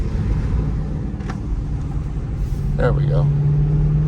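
Dodge Hellcat supercharger whine rising over a steady engine rumble while driving in rush hour traffic, close and continuous, growing louder toward the end, with brief talk over it.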